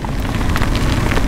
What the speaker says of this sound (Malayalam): ഓക്കെ, നല്ല മഴയാ, പൊരിഞ്ഞ മഴ